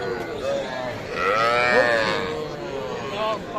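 At a crowded cattle market at Aftabganj haat, young heifer calves let out a loud, drawn-out moo close by, with other lowing and voices in the busy background.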